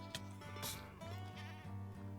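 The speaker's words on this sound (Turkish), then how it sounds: "Gördüğünüz gibi keçilerin bazıları bağırarak meyliyor." Screaming goats in the Minecraft video game, bleating over a looping rhythmic game music bed with a few short bursts of noise, fairly faint.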